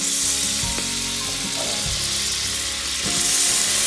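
Olive oil sizzling and frying in a pot on a home stove, a steady close crackle with a few sharper pops and no talking.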